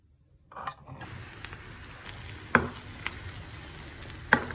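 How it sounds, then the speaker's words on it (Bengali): Fish and eggplant frying in a pan give a steady sizzle that starts after a quiet half second, with a few sharp pops and a stirring scrape, close and without talk. "তো এখন মাছ ভাজি দিই আর বেগুন ভাজি দিই"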